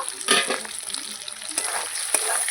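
Mutton sizzles loudly in a pot as it is fried down for kosha, a close continuous hiss with clattering spoon strokes and scraping throughout, no voices.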